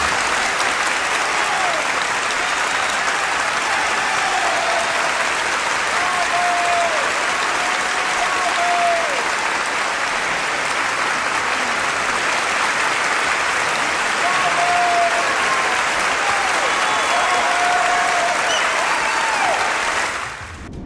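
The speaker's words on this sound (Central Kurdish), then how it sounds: "بە چەپڵە لێدان کە بە درێژترین چەپڵە لێدان لە مێژووی وەرگرتنی خەڵاتەکەدا دەنرێت" Long, sustained applause from a large audience at the Academy Awards ceremony honoring Charlie Chaplin, a dense, steady roar of clapping that holds for about twenty seconds with a few faint voices rising over it before it drops away.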